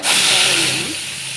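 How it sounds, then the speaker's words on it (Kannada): Crushed garlic hits hot oil for a brief, loud sizzle with a sharp initial burst that settles into a steady hiss, close by and with no voice over it. "ಎಣ್ಣೆ ಕಾದ್ಮೇಲೆ ಒಂದೆರಡು ಇಂಚು ಬೆಳ್ಳುಳ್ಳಿ ಜಜ್ಜಿ ಹಾಕೋಣ."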